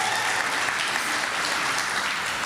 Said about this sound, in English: there's a good round of applause